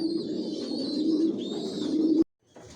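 Adult Johnson-line racing pigeons coo close by in a low, continuous throaty murmur that cuts off abruptly near the end, followed by a fainter resumption.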